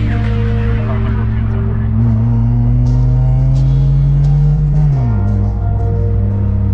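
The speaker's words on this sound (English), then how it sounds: "let's do a quick baby flip on second gear." A Honda car fitted with an aftermarket header and full exhaust accelerates hard in second gear, its loud droning engine note climbing steadily before dropping at the shift, heard up close from inside the car.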